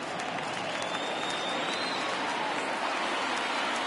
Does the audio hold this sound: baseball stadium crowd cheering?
yes